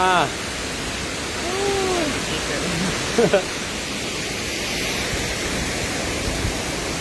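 Steady broadband roar of the Tat Sawa waterfall after rain, with mist in the air, heard close and continuous, with brief whistle-like tones and a short knock partway through.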